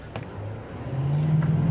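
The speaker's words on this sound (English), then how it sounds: "Remember, this is a diesel engine, though, so it doesn't need to rev up that high." A 2024 GMC Sierra HD AT4X AEV diesel pickup in four-wheel-drive automatic mode pulls away from a brake-torque launch, a low engine drone building steadily louder with a rising whine over under two seconds.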